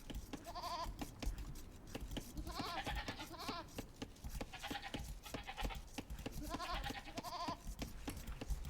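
Sheep bleating in the Age of Empires strategy game on the Arabia map, several repeated wavering bleats over a steady bed of game ambience and clicks, moderately loud throughout.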